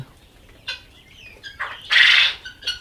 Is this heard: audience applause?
no